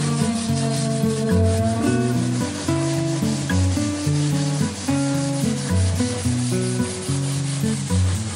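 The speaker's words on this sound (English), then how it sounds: "the entire surface is sanded down to remove any sharp points" A polystyrene and resin tree-stump sculpture has its whole surface sanded by hand, giving a continuous close rubbing, scraping sound with uneven strokes and no talking.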